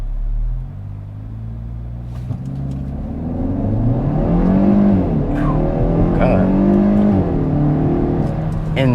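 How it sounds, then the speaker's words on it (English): A 2021 Kia Forte GT sedan with traction control off, engine revving against the brakes for a launch; a loud, rising rumble that climbs and wavers in pitch, with brief clicks and a voice behind it. "I'm going to turn off the traction here. I'm going to brake torque it."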